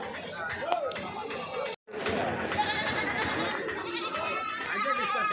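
Goats bleat repeatedly among the crowd at the weekly Kadiri livestock market, with big goats, kids and young stock. The calls are close and frequent over steady market chatter and voices, with a brief silent break early on.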